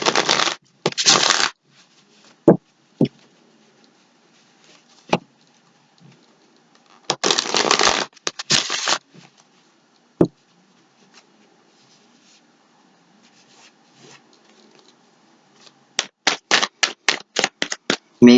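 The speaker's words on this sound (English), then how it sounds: "And I am going to just shuffle them just because I took a couple cards off like that." Tarot cards being shuffled by hand in several bursts of rapid riffling and flapping, separated by quiet pauses and a few sharp taps, close and fairly loud with no talking.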